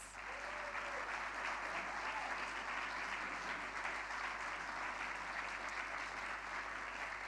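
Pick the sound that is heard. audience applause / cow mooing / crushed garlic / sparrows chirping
audience applause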